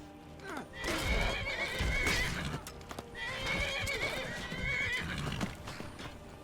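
Horses in the video game Skyrim whinny loudly in two long neighs, with clip-clopping hooves and game sounds around them.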